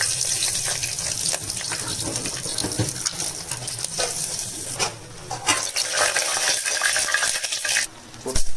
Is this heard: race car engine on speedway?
no